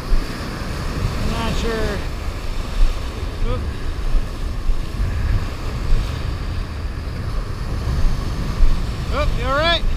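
Ocean waves break and wash on the Kenai beach during salmon dipnetting, a continuous surging roar with wind buffeting the microphone, and people talk briefly over it.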